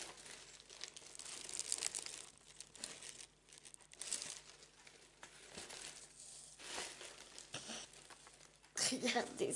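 A small paper envelope pouch, made to hold a little sample, rustles and crinkles softly as it is handled, with quiet crumpling touches throughout and a brief louder rustle near the end.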